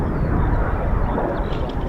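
Two Eurofighter Typhoon jets of 41 Squadron descending low above heavy cloud near an RAF airfield, a steady loud broadband jet roar that fills the short stretch without letup.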